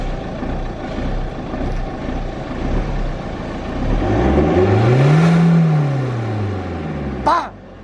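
A diesel car fitted with a new exhaust line revs up loudly, engine pitch climbing into a sustained roar then falling back, ending with a short sharp burst.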